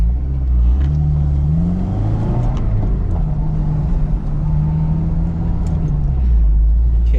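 Interior engine sound of a manual-transmission car slowing to a stop and shifting to neutral and then first gear, with a steady hum and rev changes as the clutch is worked.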